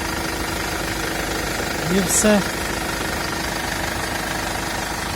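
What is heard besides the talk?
Mercedes-Benz Sprinter 316 engine idling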